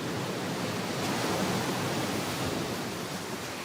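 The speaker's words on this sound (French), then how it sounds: "avec pour seule compagnie le bruit de la houle et du vent." Steady broadband rushing noise of ocean swell mixed with wind, constant and enveloping with no distinct breaks or voices.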